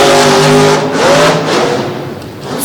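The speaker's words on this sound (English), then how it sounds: "557 cubic inches of metal shop horsepower gone to work here on the sandy surface at the Wicomico Civic Center." A big 557 cubic inch Ford engine roars loud and steady as a truck runs on a sandy indoor track at the Wicomico Civic Center, its revving pitch climbing and falling under constant crowd and arena noise.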